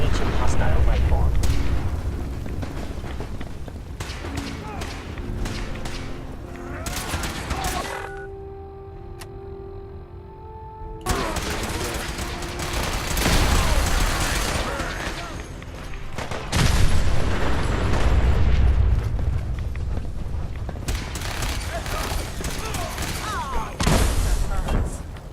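Gunfire and explosive blasts in Fallout 4 combat, heavy booming volleys and rattling shots in dense bursts with a brief lull midway, under frequent talk.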